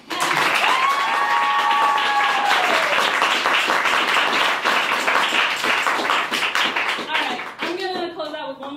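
Loud, sustained applause from a theater audience after a solo stage performance, dense clapping with a few whistles early on, tapering near the end as a voice begins speaking.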